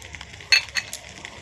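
Raisins, cashews and large chillies being stirred in a frying pan for fried rice, giving a soft continuous sizzle with a few brief scraping clinks of the utensil.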